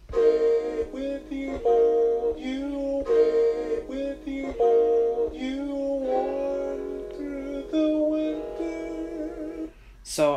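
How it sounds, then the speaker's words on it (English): A chopped sample plays back on a Roland SP-404MKII sampler as a sequence of tonal, harmonically rich bursts in a steady, choppy rhythm, loud and close, ending in a short sharp noise. "after I chop my sample, it sounds like this."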